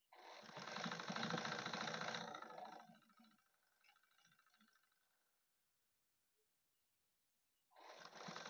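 A sewing machine runs steadily for about two and a half seconds while press stitching fabric, slows and stops, falls silent, then starts up loudly again at the end.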